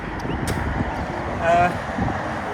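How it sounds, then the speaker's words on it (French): Strong, blustery wind gusts buffet the microphone during an outdoor race at the Calais Grand Prix, a steady rumbling roar that swells briefly in the middle, with faint other sounds underneath. "il y a des bourrasques très très fortes"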